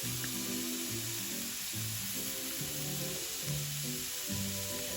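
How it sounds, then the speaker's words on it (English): Fresh minced garlic sautés in a pan for steak Diane, a steady close sizzle and hiss over low murmurs of background music, with no talking. "We're just gonna saute this for a little bit until it all becomes fragrant."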